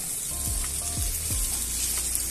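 Okra fries in a pan with coconut, giving a steady hissing sizzle with a few low scraping thuds from stirring.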